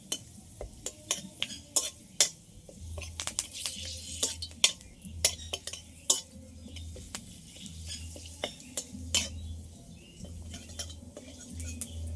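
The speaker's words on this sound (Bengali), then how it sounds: "কারি পাতাগুলো এবার ভেজে নেব।" Curry leaves fry in a pan while a metal utensil stirs them, giving sharp, repeated clinks and scrapes over a faint, low sizzle. The whole scene is fairly quiet, with no talking.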